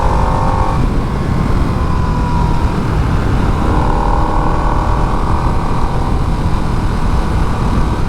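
A Harley-Davidson Nightster Sportster motorcycle being ridden in third gear on wet roads, its engine droning loud and steady with wind rush close by, while the pitch rises slightly as it pulls through speed.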